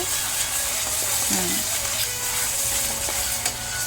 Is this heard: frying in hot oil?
yes